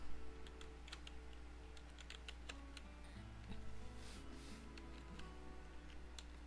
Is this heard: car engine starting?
no